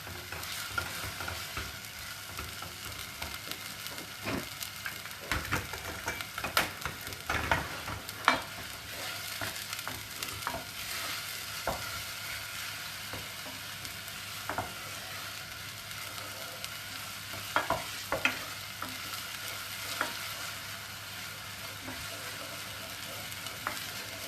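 Onions frying in a pan until translucent, before tomato goes in for ricotta aubergines, with a continuous moderate sizzle and intermittent clicks and taps of stirring throughout.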